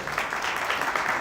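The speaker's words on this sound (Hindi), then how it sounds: "आइए खूबसूरत कलीसिया के लिए भी तालियां बजाएं" A church congregation claps together during a worship service, a steady dense patter of many hands sustained throughout, fairly loud and even with no pauses.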